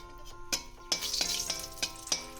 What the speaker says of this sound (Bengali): ওই তেলের মধ্যেই এবার আমি দিয়ে দেবো ফোড়ন প্রথমে দেবো দুটো শুকনো লঙ্কা